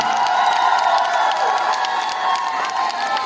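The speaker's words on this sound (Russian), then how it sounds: "давайте громко аплодируем моим пацанам" A concert audience in Yakutsk claps and cheers loudly for the performer's band members, a continuous roar of applause mixed with shouts and whoops from the crowd, close and energetic for the whole stretch.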